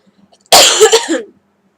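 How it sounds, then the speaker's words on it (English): A single harsh cough, close and loud, with a throaty rasp that trails off over about a second, surrounded by near silence. "I got a cough."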